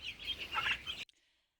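A brief burst of soft chirping and clucking from turkeys nearby, cutting off abruptly into silence.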